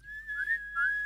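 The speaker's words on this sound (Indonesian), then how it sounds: "Tapi lu siul dibalik bisa nggak?" A person whistles while breathing in, a reversed whistle giving a thin, steady, slightly wavering tone that lasts about a second, close and fairly quiet.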